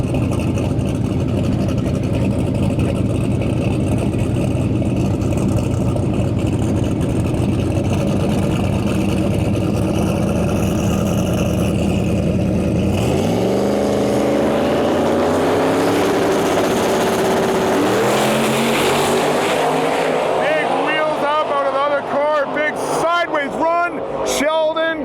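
At a no prep drag race, cars including a Mercury Marquis wagon make a loud engine roar that builds, shifts and fades toward the end, as a voice talks over it.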